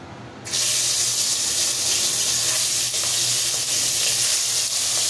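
Prawns dropped into hot salted oil, a sudden burst of loud, steady hissing sizzle that holds evenly after the initial splash.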